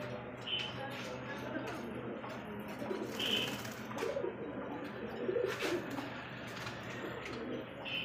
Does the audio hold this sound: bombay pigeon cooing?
yes